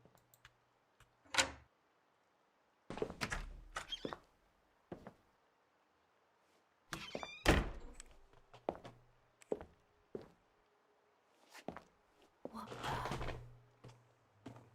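Doors in the video game Last Stop open and shut with several separate thunks and slides spread across the span, mostly close and moderately loud, with quiet gaps between.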